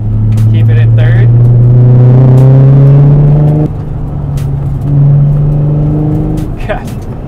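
Car engine in the Initial D arcade racing game revving hard while held in third gear, a loud sustained drone that climbs in pitch, drops abruptly, then climbs again, with a person talking over it.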